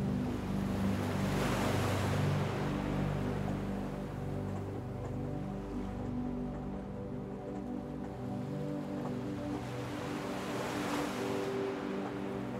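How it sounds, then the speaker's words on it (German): Gentle ocean waves wash ashore in a slow, continuous surf roar that swells and recedes, with a breathy wind-like hiss and a low drone underneath, no voices. "Das leise Rauschen der Wellen dringt an dein Ohr."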